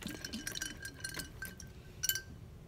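Water from a guinea pig's water bottle is dumped out, giving light splashes, drips and glassy clinks in a quick irregular patter, close and fairly soft, with no talking.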